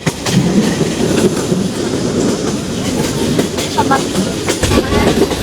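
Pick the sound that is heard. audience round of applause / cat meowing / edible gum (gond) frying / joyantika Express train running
joyantika Express train running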